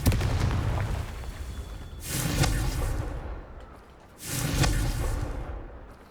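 Two Confringo fire-spell blasts in Hogwarts Legacy, each a whooshing boom that swells and then fades, spaced about two seconds apart over a low game background, fairly quiet overall.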